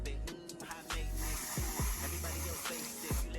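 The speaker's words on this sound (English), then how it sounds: "I'm gonna spray kind of far away" Ebin lace bond spray is misted from an aerosol can in short, close hissing bursts, several quick sprays in a row over a steady background hiss.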